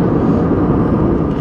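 A steady, loud, low roar fills the cabin of an airliner in flight to Manila, a broadband drone with no talk over it.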